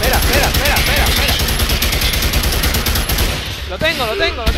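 Rapid bursts of automatic gunfire in the dinosaur shooter game Primal Carnage, loud and dense for several seconds before easing, with a voice briefly shouting in Spanish near the end.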